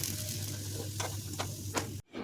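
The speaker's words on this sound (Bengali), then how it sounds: "উল্টে পাল্টে বেশ খড়া খড়া করে ভেজে নিতে হবে।" Raw banana slices fry in oil to a crisp, with a soft steady sizzle and a few sharper crackles and stirring clicks close by, ending in a brief break.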